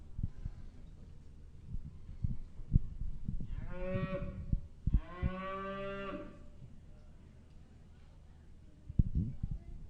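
A Longhorn cow lets out two long, loud moos in a row at the Longhorn World Show, a livestock show, over a hall murmur with scattered thumps and clatter.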